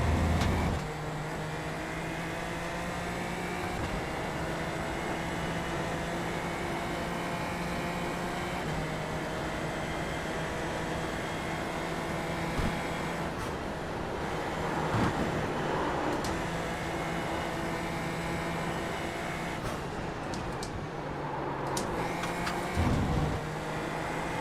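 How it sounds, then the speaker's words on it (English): A race car engine in a sim racing video game whirs with a steady, buzzing mechanical drone, holding a fairly constant pitch with slight rises and dips, continuous and close throughout, without speech. "Car sounds like a washing machine. A washing machine on spin cycle."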